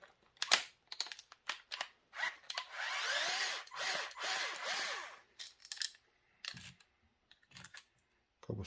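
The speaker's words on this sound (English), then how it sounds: "So let's grab the drill" A power drill removing bracket screws from the differential of an MCD XR5 RC car, with a sustained whirring run in the middle, several short bursts, and clicks and handling noises between them, close up.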